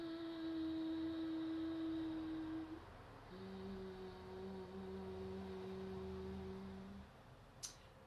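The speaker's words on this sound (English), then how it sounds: "Then the other part of it is to hum, to lightly hum." A soft, steady Brahmari breathing hum holds one higher pitch on the inhale, pauses briefly, then resumes lower on the exhale and continues for several seconds, quiet and close with no speech.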